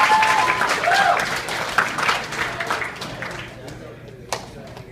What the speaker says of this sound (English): Can we get a round of applause for the parents, please?